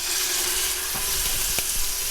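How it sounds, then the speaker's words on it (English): A pound of ground beef sizzles and fries steadily in olive oil over medium heat, a loud close crackle with a few soft stirring knocks. "And dump that pound of ground beef"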